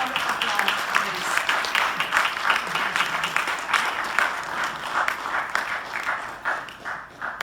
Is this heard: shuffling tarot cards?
no